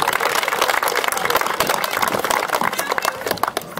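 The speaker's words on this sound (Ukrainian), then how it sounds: "Давайте їх привітаємо оплесками" Steady applause from an indoor futsal crowd after the Rivne region cup final, a dense continuous patter of many hands clapping at fairly even loudness throughout.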